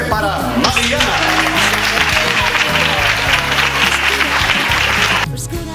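Loud, steady audience applause at a music album promotion event, filling nearly six seconds with dense clapping over strong musical tones before dropping off sharply at the end.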